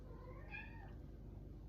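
A house cat lets out a single faint meow with a rising then falling tone, heard alone over a low steady indoor hum.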